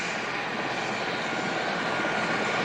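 A propeller airplane approaches to land on a runway at a 1986 airshow in Cooma, its engine a loud, steady drone that swells slightly as it nears.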